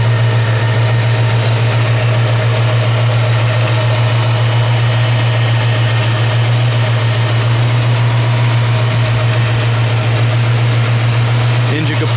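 An original 1965 Ford Mustang 260 two-barrel V8 with dual exhaust idles steadily nearby, a constant low rumble and hum throughout with no change in pace.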